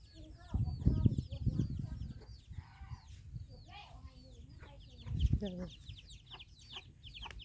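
Farmyard chickens cluck in a busy, overlapping chorus with rooster-like calls, close and steady throughout, with a couple of louder bursts of flapping or scuffling.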